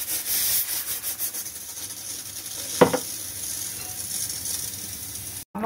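Spice paste and potatoes fry with a steady sizzle in a pan as water is poured in, a brief splash standing out midway over the ongoing crackle, with no talking.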